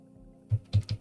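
A few quick keystrokes tapped on a computer keyboard in a quiet room, three distinct close clicks in about a second.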